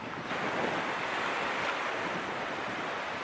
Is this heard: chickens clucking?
no